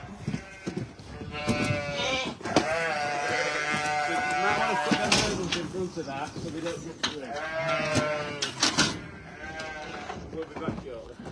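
Lambs and sheep on a farm bleat repeatedly and close by as they are moved out to the fields, their calls overlapping with people talking.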